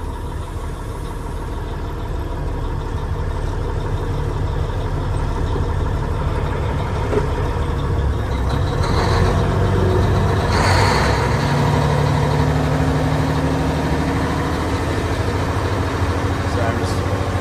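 A 1985 Mack R Model R686ST truck with a twin-stick transmission runs steadily while being shifted, a loud, close diesel drone with rising and falling revs and brief hissing bursts, mixed with someone talking.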